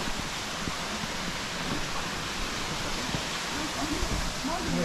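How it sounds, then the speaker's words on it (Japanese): Continuous broadband rushing of falling water, steady and enveloping, with faint indistinct voices underneath. "高山の滝。"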